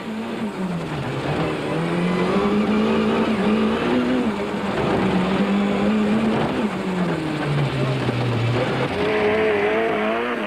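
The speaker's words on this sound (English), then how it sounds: "More racecam action from the Coetzee Leek Toyota illustrates that off-road racing is no Sunday drive through the park" In-car racecam from an off-road racing Toyota at the 1992 Caledon 500, its engine droning loud and steady throughout, pitch rising and falling through gear changes and revs, with rough rattling from the terrain.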